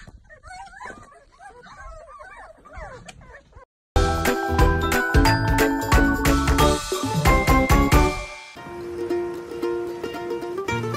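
Dogs whimpering and yipping in a high, wavering whine, close by, then a sudden switch to loud jingling and clattering with music-like tones over the rest.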